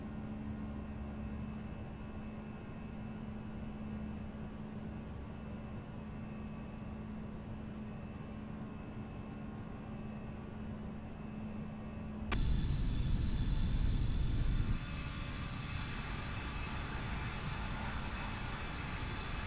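Airbus A319 jet engines drone steadily during a light, fast climb in the X-Plane 11 flight simulator, a constant even roar that jumps louder briefly near the end, with no talk.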